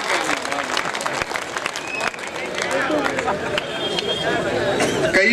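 A live audience at a Hindi satirical poetry reading claps and murmurs, with scattered applause mixing into crowd chatter and voices that grows fuller toward the end.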